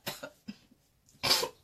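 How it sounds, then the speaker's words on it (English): A few short, harsh coughs close by after spraying potent perfume, then a louder, breathy burst at the end. "Excuse the coughing."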